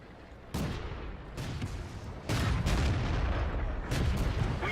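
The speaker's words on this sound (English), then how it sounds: "Ozzy stops and takes shots" Tank cannon shots in a T14 tank battle game, a few heavy booming blasts spaced a second or two apart over a rumbling engine background, loud and close.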